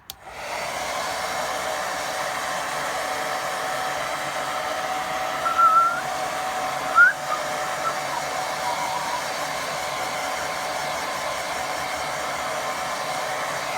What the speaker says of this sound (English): Give that a blast with dryer.